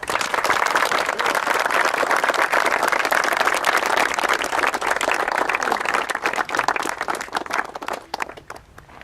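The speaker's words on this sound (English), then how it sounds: "So please give the American Legion a round of applause." Sustained applause from a large audience for the American Legion at a high school event, a dense wash of clapping that holds steady and then tapers off toward the end.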